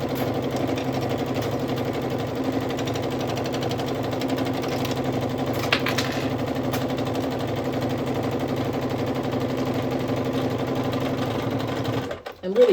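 A Pfaff sewing machine runs in a steady, fast, continuous hum while stitching a denim tote bag, then stops abruptly near the end, close and fairly loud, with a voice faintly present.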